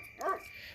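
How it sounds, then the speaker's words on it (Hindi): A dog barks outside at night, a single short, fairly loud bark rising out of a quiet background with no talking. "तभी बाहर कुत्ते भौंक रहे थे काफ़ी ज़ोर ज़ोर से।"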